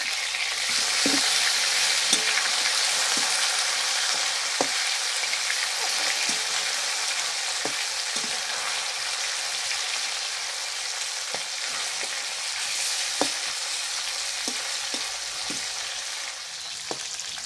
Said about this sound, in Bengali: মাছের এক পিঠ ভাজা হয়ে গেছে, একটু উল্টে দেবো।